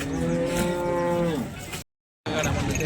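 A cow at the Sangola cattle market gives one long, loud, close moo, followed by a short silence and some background noise.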